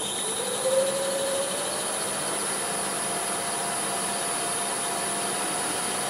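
A wood lathe spins a maple blank for a coffee scoop at about 1,000 RPM, giving a steady, close motor whine with a brief rising tone near the start and no talking.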